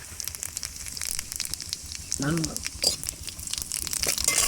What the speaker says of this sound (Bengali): তেল তো গরম হয়ে গেছে আমি এবার দিয়ে দেব চিনি দিয়ে দিচ্ছি তেজপাতা শুকনো লঙ্কা আর জিরে